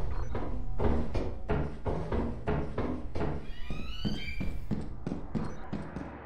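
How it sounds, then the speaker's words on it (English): Rapid, irregular metallic thumps and rattles from a monster vent opening in Lethal Company, close and fairly quiet, with a brief rising creak partway through. "That's the sound of the opening vent."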